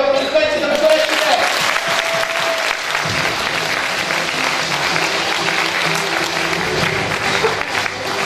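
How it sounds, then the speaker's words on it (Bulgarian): Steady, loud applause from an audience at a kindergarten anniversary celebration, honoring female colleagues, sustained dense clapping throughout with crowd murmur beneath. "аплодисменти на колежките!"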